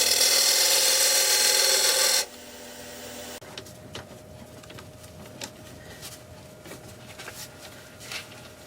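A woodturning scraper works the spinning wood on a lathe while shaping a multi-axis candlestick holder. A loud steady machine roar cuts off after about two seconds, and quieter scraping and rubbing with sharp ticks follows.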